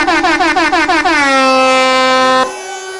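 Truck air horns blare in a quick run of short repeated blasts, then settle into one long, loud sustained blast that cuts off sharply, with no talking over it.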